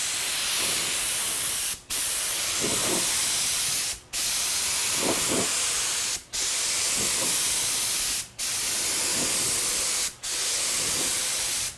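A paint spray gun sprays black paint onto golf cart metal trim, five loud hissing bursts of about two seconds each separated by brief pauses, close up with no talking.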